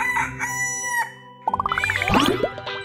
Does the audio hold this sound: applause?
no